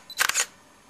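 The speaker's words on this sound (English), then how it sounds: "What you then do is press the shutter release button all the way down" An Olympus E-420 DSLR fires its shutter with a single quick mechanical clack, a close, crisp double snap of mirror and shutter over near silence.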